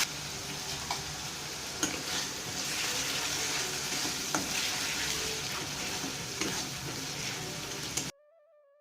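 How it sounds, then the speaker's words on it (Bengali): Spice paste being stirred and fried for a mutton keema curry, a steady close sizzle with scraping spoon clicks throughout, then it cuts off abruptly near the end. "মশলা দিয়ে আবার একবার নেড়ে দিচ্ছি। মশলাটা এবার কষিয়ে দিচ্ছি।"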